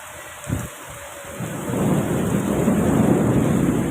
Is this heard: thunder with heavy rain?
yes